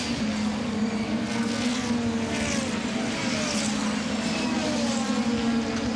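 A DTM race car spins on the track at Misano, its engine a loud, steady drone with shifting pitch, while a commentator talks over it.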